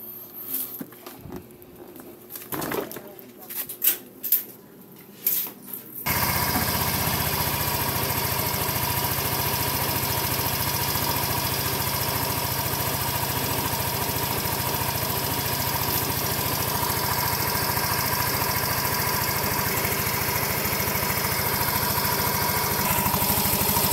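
A Yamaha Mio Soul i 125 scooter engine starts up after a few clicks and knocks, then idles steadily and loudly close by for a long stretch.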